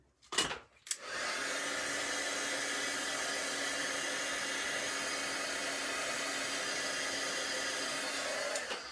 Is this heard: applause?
no